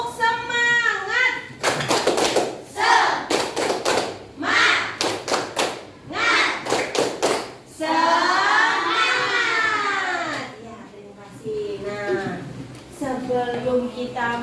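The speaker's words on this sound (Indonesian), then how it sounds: "ayo kita semua tepuk semangat." Primary school pupils in a classroom perform the 'tepuk semangat' clapping routine: bursts of sharp, rhythmic group claps in quick patterned runs, set among loud children's chanting voices.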